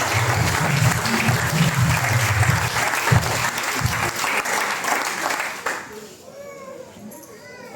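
A congregation in a Methodist church applauds at a harvest festival, dense sustained clapping with crowd noise and voices for several seconds, then fading out as a voice and quieter sounds remain.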